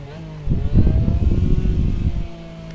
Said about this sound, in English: Let's get the engine fired up.